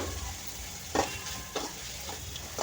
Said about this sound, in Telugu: ఇంకా ఈ పసుపుని పచ్చివాసన పోయేంత వరకు ఈ విధంగా కలుపుకోవాలండి